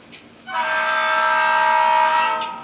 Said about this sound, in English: that train, the yellow train passed the detector